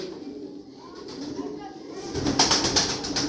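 Young racing pigeons coo softly in a loft, low murmuring calls heard close by, with someone talking over them.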